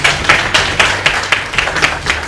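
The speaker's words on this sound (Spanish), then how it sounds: "vamos a recibir aquí con un aplauso a don Alberto Nodón" Crowd applause welcoming a speaker at a political party class, a steady burst of many hands clapping at close to moderate distance, fairly loud and alone without talk.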